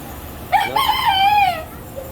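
A rooster crows once, a long clear call rising and falling over about a second, amid poultry at a state FFA convention judging contest, with quiet background ambience.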